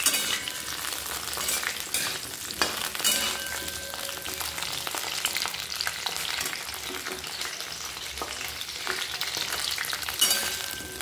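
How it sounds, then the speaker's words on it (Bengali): Cauliflower florets frying in hot oil for a fish curry, giving a steady, close crackling sizzle that runs without a break, with occasional stirring scrapes mixed in. "মাছের ঝোলের ফুলকপিগুলো আমি আগে ভেজে রেখে দিই"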